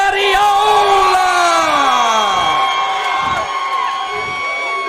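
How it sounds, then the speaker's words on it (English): A fight crowd at a Bourbon Street event cheers and shouts loudly as a fighter is introduced, voices whooping and bellowing together in a dense, sustained roar with rising and falling yells. "I can't hear myself with the crowd behind me."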